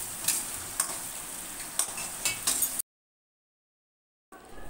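Garlic, ginger and chili paste frying in a pan, a continuous quiet sizzle broken by a few sharp clicks of stirring, then a long silence and the sizzle returning.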